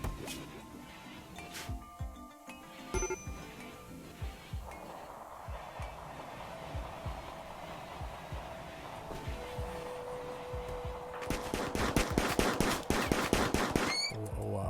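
Rapid bursts of gunfire from the colony-building game RimWorld, a steady crackle of shots through the middle that swells into dense, loud volleys near the end over a low game backdrop.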